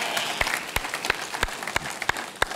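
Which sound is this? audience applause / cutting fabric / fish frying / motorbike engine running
audience applause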